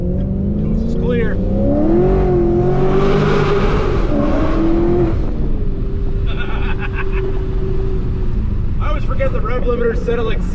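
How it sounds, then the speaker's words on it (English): A 2019 Ram truck engine revs hard in a short pull under an overpass, a loud rising drone that drops off with a hiss from the blow off valve, then idles on with brief chirps and voices talking over it. "you can definitely hear that blow off valve a little bit"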